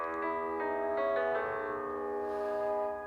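The Samsung Galaxy C4 "Breeze" notification tone plays as a short sequence of bright, clear chime notes stepping in quick succession, then ringing out and fading, close and alone.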